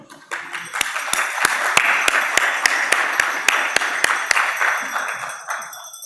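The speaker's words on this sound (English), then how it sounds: "Please give a big round of applause for Roshik Mohamed" An audience at a tech conference breaks into a burst of applause, dense clapping from a crowd that swells quickly and then tapers off, with sharp regular clicks cutting through it.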